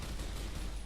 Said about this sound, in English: why are we just firing down this hallway?